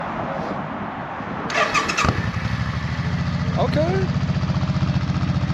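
A Suzuki motorcycle engine cranks with a brief starter whir, catches and settles into a loud, close, steady throbbing idle that swells slightly as it revs, with talk over the opening.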